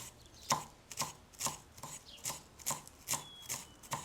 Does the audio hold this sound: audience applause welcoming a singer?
no